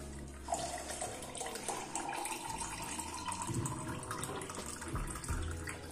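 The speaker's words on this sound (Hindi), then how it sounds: "अब इसमें हम डालेंगे चिल वाटर" Chilled water poured into a mango summer drink makes a continuous close splashing, gurgling flow for several seconds, fairly quiet overall, with no voices.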